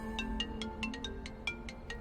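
A phone ringtone chirps in a quick repeating pattern of short electronic beeps, faint and distant, over a low steady room hum in an indoor classroom scene from a Chinese drama.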